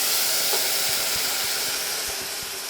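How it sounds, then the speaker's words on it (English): Steady, loud hissing sizzle as beef stock hits a hot venison stew pot, a continuous spray-like hiss with faint bubbling pops underneath, fading slightly toward the end. "I'm gonna deglaze the pot with some beef stock"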